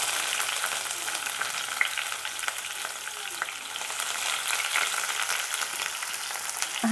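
Onions, garlic and dried red chillies fry in a pan with a dense, constant sizzle up close, broken by occasional crackles and faint scrapes of stirring.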